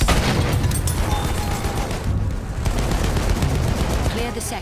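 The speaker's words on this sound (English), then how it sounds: "Machine gun!" Dense machine gun fire in Battlefield 1, a continuous loud rattle of rapid shots with booming battlefield noise layered over it, heard close and without pause.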